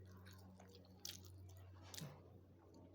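Someone eats a home-cooked meal of fried bitter gourd and chicken, with soft, close chewing and a few crunchy bites against a low steady hum.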